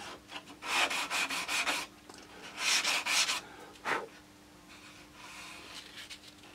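Hand sanding on wood: rhythmic bursts of scratchy rubbing strokes, close by, pausing between runs and fading to lighter strokes at the end.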